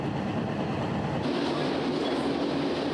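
Steady rumbling of a Portuguese passenger train rolling along the rails beside the Douro River from Porto, a continuous broadband roar with a shift in tone partway through.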